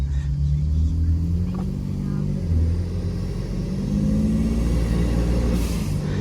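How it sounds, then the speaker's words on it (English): A 2020 Ford F-150 EcoBoost with its turbo silencers fitted accelerates under boost, heard from inside the cab as a steady, loud engine drone whose pitch climbs and then eases off. "this is with the vortex things in, turbo silencers, whatever you want to call them. We'll get some boost here."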